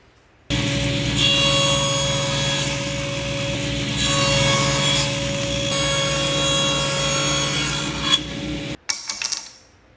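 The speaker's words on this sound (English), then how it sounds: "The top, back, and the bottom are all the same length, so we're gonna cut them all with the sled" Table saw with a sled cutting wooden pieces for a toy backhoe loader: a loud, steady motor whine with the blade biting through wood, then the saw cuts off and a few clattering knocks follow.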